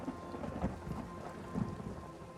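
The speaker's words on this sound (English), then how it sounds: "Alright, big storms." Rain falls steadily during a thunderstorm in the video game Elder Scrolls Online, a dense hiss with low rumbling thunder rolling underneath, fairly faint and continuous with no voices.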